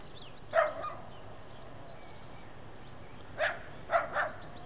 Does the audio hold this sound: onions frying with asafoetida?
no